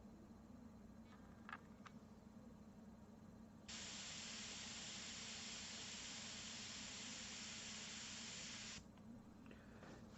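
A steady, even hiss of an airbrush spraying paint onto aluminum runs for about five seconds, fairly close, after a couple of brief faint taps.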